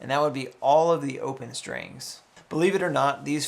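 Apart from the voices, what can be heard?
No everyday noise stands out behind the speech.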